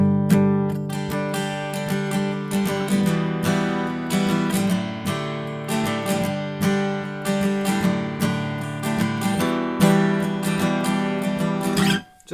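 Close acoustic guitar strums the refrain of "God Rest Ye Merry Gentlemen" through a short chord progression in a relaxed, bouncing swing rhythm, ringing steadily until cutting off at the end.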